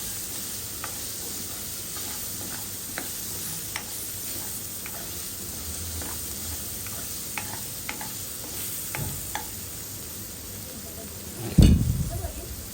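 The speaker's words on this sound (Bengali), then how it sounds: "বরবটিগুলো দিয়ে নিব, দিয়ে সেগুলো আবার ভালোভাবে ভেজে নিব" Chopped carrot and yardlong beans stir-fried in a pot for restaurant-style mixed chow mein give a low, steady sizzle with light spatula ticks and scrapes, ending in one louder knock near the end.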